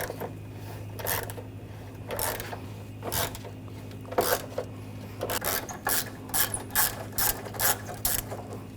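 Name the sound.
ratchet with 8mm socket removing Ford F-150 bumper bolts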